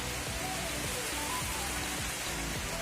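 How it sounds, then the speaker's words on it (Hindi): Heavy rain pours down steadily, a dense, unbroken hiss of water at moderate volume with no voices over it. "बहुत ज़्यादा तेज़ बारिश लगी हुई है मेरे पीछे।"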